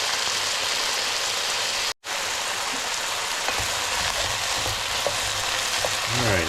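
Chicken and beans sizzle loudly in a skillet, a dense steady crackle and hiss close to the mic, broken by a brief gap and some stirring scrapes, with no talking.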